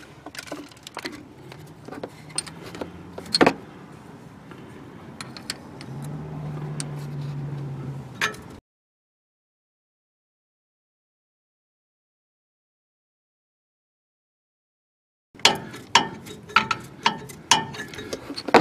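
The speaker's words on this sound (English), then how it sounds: "I'm going to put that 14mm wrench on top of this shock again, and I'm just going to turn the shock to tighten it." A 14mm wrench turning the shock mount on an '85 Ford Ranger, giving a series of close, sharp metallic ratcheting clicks and clanks in irregular bursts, with a stretch of silence between bursts.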